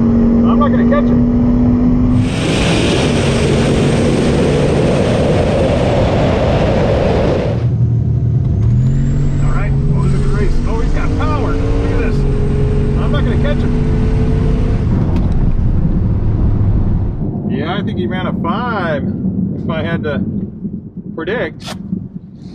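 Drag race cars launch down the strip, engines roaring loud and close as they accelerate hard, then the pitch climbs and falls as they pull away, with a voice talking over the run.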